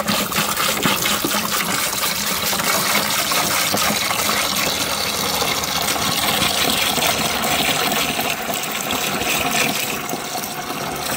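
Evapo-Rust rust remover pouring into a 5-gallon bucket to soak an RX-7 rotor and sending unit, a steady, loud gush of liquid splashing continuously close by with no talk.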